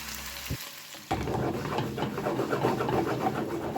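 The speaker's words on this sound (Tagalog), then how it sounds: "magpainit na tayo ng mantika at sabay-sabay natin silang tutuhin" Meatballs hit hot cooking oil and a dense, steady sizzle rises abruptly and continues, close and loud, with a brief clink just before.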